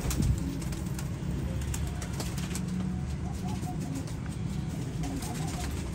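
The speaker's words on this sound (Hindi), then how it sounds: "बहुत ही रिजल्टेड कबूतर है ये।" Soft, low cooing of a pet pigeon, a show bird of the Teddy type, repeating faintly against steady background hum, with no clear talk.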